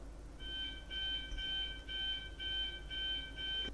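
A building fire alarm under test sounds in loud, evenly spaced tonal beeps, about seven bursts in quick regular rhythm, each a bright pulsing electronic tone with short gaps between.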